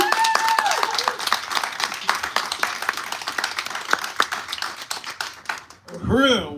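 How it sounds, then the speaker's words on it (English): Crowd at an anti-colonial reparations rally in St. Louis claps and cheers, with dense, lively clapping throughout, voices mixed in, and a loud vocal cheer rising at the end. "give another round of applause for Comrade Rage"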